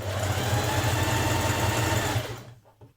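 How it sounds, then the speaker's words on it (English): A sewing machine top stitching a neckband with a stretch stitch, a close, rapid, steady mechanical chatter that runs continuously and then winds down and stops near the end, followed by a few faint handling sounds. "we're going to top stitch around that neckband"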